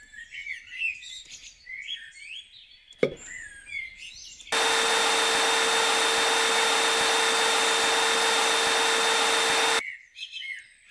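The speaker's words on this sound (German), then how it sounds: "der gesamte Schmutz und Staub auf dem Boden kann mit dem Staubsauger entfernt werden" Vacuum cleaner in the video game Garage Flipper Simulator, used while renovating a garage: a loud, steady whirring roar runs for about five seconds, with bird chirps in the background before and after it.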